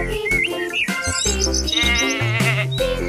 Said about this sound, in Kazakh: Бұл қойлар өте молмақар.